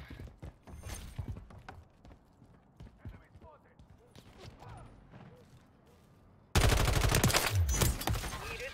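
Loud, dense bursts of gunfire from a Call of Duty match erupt suddenly near the end and continue steadily, following a stretch of quieter game sounds and scattered talk.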